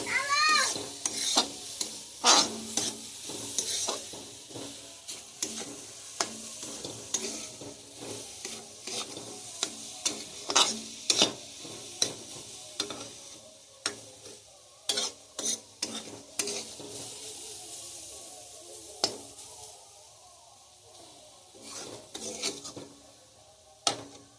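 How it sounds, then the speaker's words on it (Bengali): Cauliflower paratha filling stirred in a pan over low heat, a spoon scraping and knocking in irregular bursts over a faint background sizzle, with quieter gaps between strokes; no talking. "একটু ধিমি আছে ভালো করে এটা নেড়ে চড়ে নিতে হবে"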